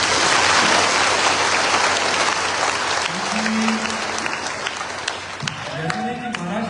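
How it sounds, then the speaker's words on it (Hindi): A crowd claps loudly for the state team at a closing ceremony in Maharashtra, a dense, sustained wash of applause that tapers slightly toward the end as a voice speaks over it. "आप सब स्टेट टीम के लिए पर ताली बजाइए"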